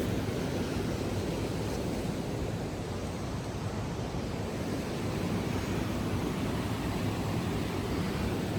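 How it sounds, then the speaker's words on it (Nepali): A roaring river, a constant broadband rush of water that stays loud and unbroken throughout with no voices over it. "खोला कराएको सुनियो, अब आइसक्यो।"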